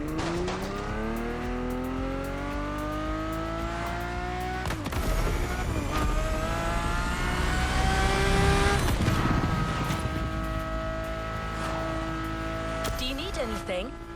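A 2002 Ferrari Enzo driven in The Crew Motorfest, its engine revving up through rising gear pulls with shifts and a brief tire squeal, loud and close under music and a voice.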